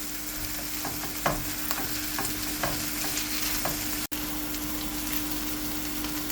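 Masala with garlic, curry leaves and chili frying in hot oil, a steady close sizzle with a few spoon clinks while stirring.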